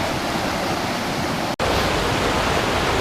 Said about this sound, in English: We've been walking up and down this river for about a quarter mile